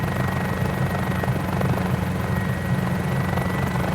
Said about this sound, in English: you can hear happy helicopter sounds